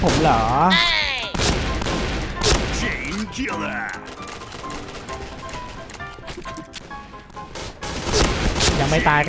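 Gunfire in the shooter game Point Blank, with rapid bursts of shots and booming hits crowding together, loud and close, while players' voices and shouts come through over the shooting.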